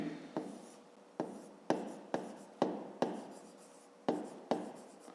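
A pen writes an equation on paper in about ten separate scratchy strokes, each a sharp onset fading quickly, close and quiet with short pauses between.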